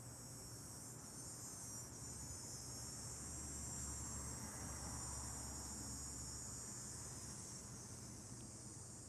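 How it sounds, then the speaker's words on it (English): An outdoor cicada gives off a faint, steady high-pitched buzz that holds unbroken over a low background hum, with no voices present. "The cicada, how fascinating."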